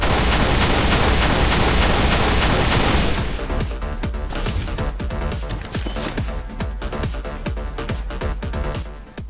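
Needle Rifle from Halo Reach firing in game: a dense roaring burst for about three seconds, then a rapid run of sharp separate shots with metallic crackle, loud and close, no voices.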